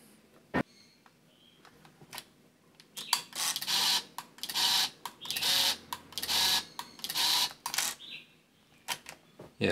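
Shutter of a Ricoh RZ-750 35mm compact camera firing in continuous mode, heard as a run of repeated mechanical clicks and whirring film-advance bursts in quick succession, close and clear with no talk.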